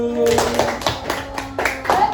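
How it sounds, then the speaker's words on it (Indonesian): A classroom of students claps for a group during a teaching session, a short burst of hand claps with a few distinct loud slaps, mixed with voices. "Tepuk tangan untuk kelompok 1."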